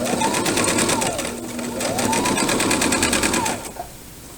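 Sewing machine stitching down the length of a pillowcase, a fast steady whir of the needle in two bursts with a short slowdown between, close and clear, then stopping near the end.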